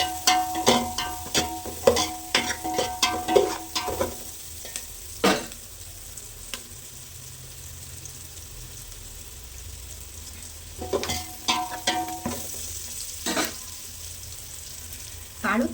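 Mutton keema frying with kasuri methi in a pan, a continuous sizzle with bursts of rapid spoon scraping and clattering, then a quieter stretch of plain frying before more stirring.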